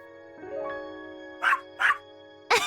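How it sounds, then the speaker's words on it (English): A puppy in the video game The Hundred Line gives three short, bright barks spaced apart over a soft sustained musical tone, fairly quiet and close. "Puppy."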